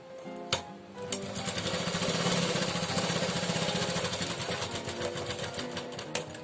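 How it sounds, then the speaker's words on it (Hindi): A sewing machine double-stitches the waistband of a lehenga in one continuous run of several seconds. It sounds moderately close, with a steady rhythmic whir and a few sharp clicks. "हमने पूरे नेफे में डबल सिलाई लगा ली है"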